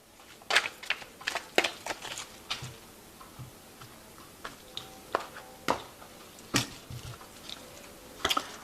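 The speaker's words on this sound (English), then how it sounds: "I have shuffled this deck." A tarot deck, the Tarot of New Vision, being shuffled by hand, heard as irregular bursts of crisp card slaps and riffles separated by brief pauses, close and fairly quiet with no talking.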